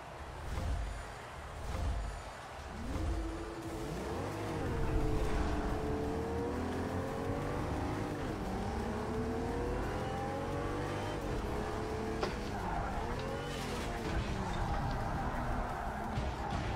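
Race car engine in Project Cars 3 played in VR, a steady droning roar with rising and falling revs as the car accelerates and shifts, continuous throughout with a faint voice at times.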